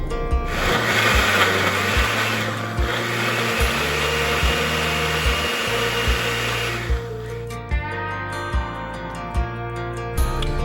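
A kitchen blender purees onions with vinegar and salt for birria, a loud continuous motor roar with rhythmic low thumping pulses that cuts off near the end, leaving only the faint thumps and no voices.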